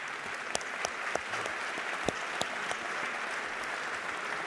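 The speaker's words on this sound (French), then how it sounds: "Vous pouvez tous les applaudir." Moderately quiet, sustained applause from a large audience at the closing plenary of a national convention in a hall, with occasional sharper individual claps standing out above the steady wash.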